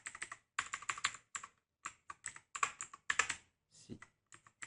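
Computer keys are tapped in quick irregular bursts, including tab and enter presses, crisp and close with short pauses between clusters and no voices.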